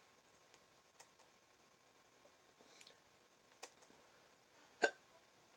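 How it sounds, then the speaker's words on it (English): A person's hiccups during a casual morning chat: a few faint, scattered hiccups, then one sharp, louder hiccup near the end, with no talking over them. "I got hiccups."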